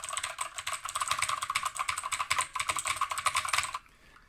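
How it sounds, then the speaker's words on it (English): Rapid, steady typing on a VicTsing mechanical keyboard with Outemu blue switches gives close, crisp clacky keystrokes in a dense run lasting nearly four seconds before stopping into near silence. "seeing how these are Otomu blue switches, are going to be pretty clacky"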